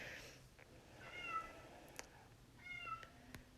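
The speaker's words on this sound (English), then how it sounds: "you're hearing my cat fussing in the background" A cat meows twice in the distance, drawn-out fussy calls spaced about a second and a half apart, with faint rustling and a few light knocks nearby.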